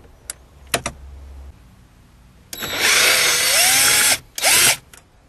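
Power driver backing Torx head screws out of a Ram radio bezel, with a few faint clicks and then a loud whirring burst of about a second and a half, followed by a shorter second burst.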